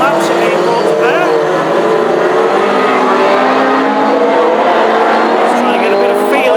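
Hot rod race cars running installation laps at a Northampton oval meeting, engines droning loud and continuous throughout, with a public-address announcer talking over the steady roar.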